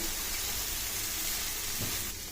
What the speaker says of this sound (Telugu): ఇప్పుడు మనం కట్ చేసి పెట్టుకున్న ఆనియన్ వేసి కలుపుకోవాలి